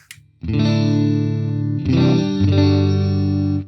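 An electric guitar through a Mooer GE300 Lite processor with cabinet simulation, full amp-like tone, strums a few sustained chords, loud and close, with no voices.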